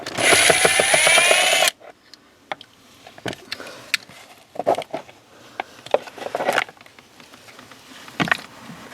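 Ratchet work on footrest screws inside a Honda Accord cabin, with a loud burst of mechanical whirring up front, then scattered sharp clicks and metallic ticks of the ratchet and loosened screws, close and irregular.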